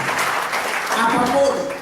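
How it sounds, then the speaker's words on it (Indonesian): A church congregation claps together in a sustained, dense wash of hand-clapping that carries on for the whole stretch. It sounds moderately loud and fairly near, with a faint voice threading through it. "Kita tepuk tangan untuk poin kedua ini"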